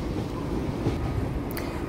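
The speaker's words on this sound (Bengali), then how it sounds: "আমাদের ট্রেন এখন প্ল্যাটফর্ম ছেড়ে সামনের দিকে এগিয়ে যাচ্ছে" Inside a carriage of the Kanchankanya Express pulling out at night, a steady low rumble and rolling hum from the moving train, continuous and fairly loud, with a brief higher squeak near the end.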